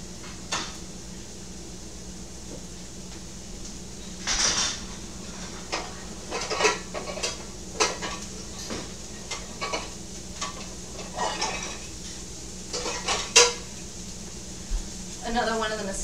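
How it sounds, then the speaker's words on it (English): A small pot and utensils are handled to start a tomato sauce, with scattered clanks and taps of metal and wood over a steady low sizzle of frying, close and unhurried, with a voice speaking now and then. "And now I'm going to get a small pot and start cooking my tomato sauce."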